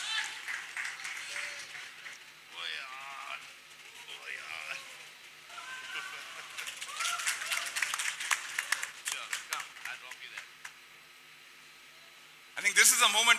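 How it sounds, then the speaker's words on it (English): An audience breaks into clapping and applause at a promotional event, with bursts of claps rising and falling over about thirteen seconds and a louder surge near the end. "I think this is a moment when the claps should be coming in."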